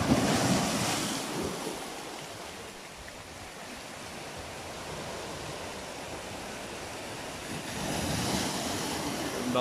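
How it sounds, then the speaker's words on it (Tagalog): Ocean waves surge and crash in broad washes of noise, swelling at the start and again near the end, with wind buffeting the microphone. "lumalakas na yung ano, hampas ng alon"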